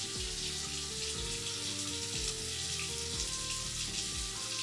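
Water runs steadily for a quick rinse, a continuous rushing hiss over a droning, tonal background.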